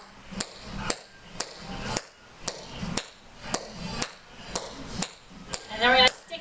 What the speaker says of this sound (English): And then we're gonna tap our toes.